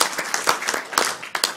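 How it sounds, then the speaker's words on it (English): Audience members at a drum clinic applaud a young drummer, with brief bursts of clapping, some sharp individual claps, and the applause rising and falling quickly. "So let's give him another round of applause for that"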